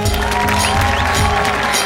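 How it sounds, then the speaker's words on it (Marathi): Loud, dense applause from a studio audience at a Marathi stage comedy show's award moment, a steady roar of clapping with faint cheering and sustained music tones underneath, filling the whole brief moment. "जोरदार टाळ्या."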